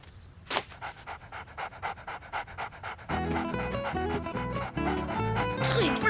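Cartoon dog panting in quick rhythmic huffs, close and clear, then continuing under a burst of music.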